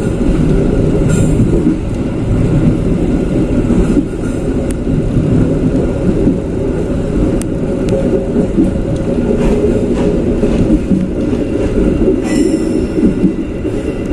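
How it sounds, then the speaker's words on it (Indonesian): The Serayu passenger train crosses the Cirahong railway bridge with a loud, continuous rumble of wheels and carriages, close by and steady throughout, with faint metallic squeals near the start and end and no talking. "sebentar lagi kereta api Serayu akan melintas jembatan Cirahong"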